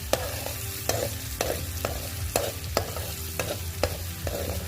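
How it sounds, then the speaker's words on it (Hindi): Garlic and ginger paste frying in hot oil, a steady close sizzle broken by regular scraping strokes of a spoon stirring the pan, with no voices. "ऑयल गरम हो गया। अब इसमें लहसुन और अदरक का पेस्ट शामिल कर दें।"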